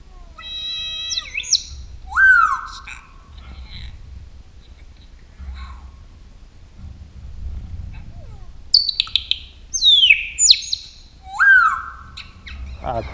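A parrot performing in an amphitheater show gives sharp, rising whistles and calls in two bursts near the start and end, with a low murmur between them and faint voices nearby.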